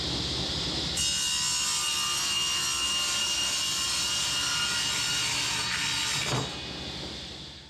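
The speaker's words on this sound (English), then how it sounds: "So I'm going to cut a square edge on the corner and then we'll cut it to width." A table saw ripping a square edge on a wooden board, a loud steady whining cut that starts abruptly, holds for about five seconds, then drops back to the spinning blade's hum as it winds down.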